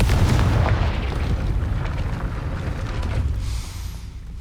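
A Confringo blasting spell explodes in the Hogwarts Legacy video game, a loud, sustained rumbling boom with crackling debris that gradually fades out over a few seconds.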